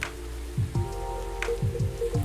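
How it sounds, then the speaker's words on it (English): Steady rain in the video game Coffee Talk 2 makes a soft, continuous patter beneath gentle, sustained musical tones and a few low plucked notes. "Oh, that's just the rain."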